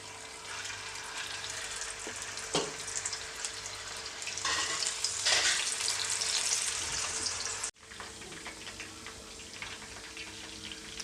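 Bitter gourd slices deep-frying in hot oil over a medium flame, a continuous loud sizzle and crackle that swells midway, briefly cuts out, then resumes more softly.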